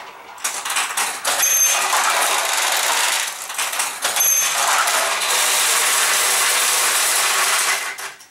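Pachinko balls rattle and clatter through a Nishijin pachinko machine, a dense, loud metallic chatter running almost continuously with brief dips and a few high chiming tones, ending abruptly.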